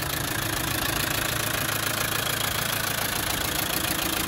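A military reconditioned 300TDi diesel engine in a Land Rover Defender 90 Wolf soft top idles close by, a loud, steady rattling drone with an even diesel clatter throughout.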